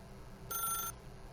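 A telephone in the video game The Stanley Parable rings once, a brief, faint electronic ring lasting under half a second over a quiet hum.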